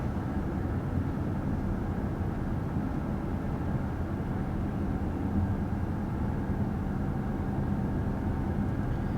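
A steady, even rumble of road and tyre noise fills the cabin of a 2022 BMW X5 cruising at 55 mph, low and continuous, with no voices.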